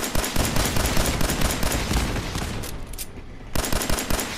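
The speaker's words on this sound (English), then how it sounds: "This is going to make a pistol that shoots missiles" Rapid, loud gunfire from a semi-automatic pistol modded to shoot missiles in Fallout 4, a dense stream of shots and blasts with a brief lull before the firing resumes.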